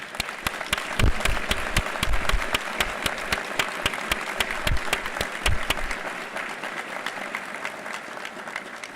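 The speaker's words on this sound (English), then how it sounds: "please join me in giving a round of applause to all of the friends and family who supported you" A large audience at a fire department recruit graduation ceremony applauds loudly, with a few sharp nearby claps standing out early on, then the applause thins and fades over the last few seconds.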